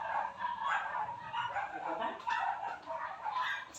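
Several dogs bark and yip outside a home kitchen, a run of fairly close, repeated barks with whimpering notes, continuing throughout with no talk over them.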